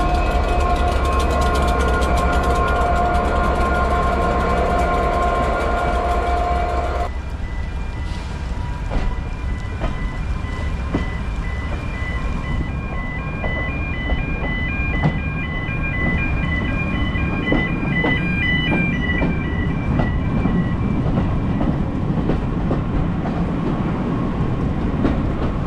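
Loud, steady rumble of a diesel locomotive on the Severn Valley Railway, with a sustained tonal drone that cuts off early, then heavy running with rhythmic clicks from wheels over rail joints.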